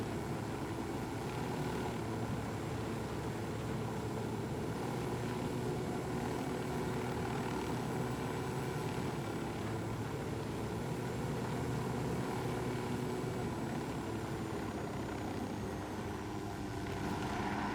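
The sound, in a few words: helicopter flying in Ghost Recon Wildlands video game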